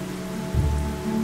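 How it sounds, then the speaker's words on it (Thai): Rain falls steadily in a documentary about volcanic eruption and acid rain, a soft continuous hiss with a low rumbling swell partway through, and no voices. "ฝนกำลังตก ฝนกำลังตกอีกแล้ว"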